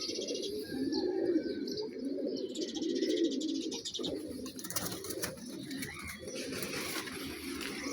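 Pigeons coo steadily on a morning rooftop, a continuous overlapping chorus of low, throaty calls close by, with occasional chirps and light rustling mixed in.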